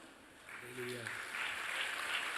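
An audience claps, a brief spoken phrase giving way to a rising wash of steady applause.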